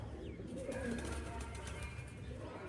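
Pigeons coo softly in a loft, a couple of low, faint warbling calls over steady background hiss.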